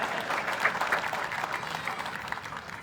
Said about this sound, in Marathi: जोरदार मॅडम साठी जोरदार एकदा टाळ्या.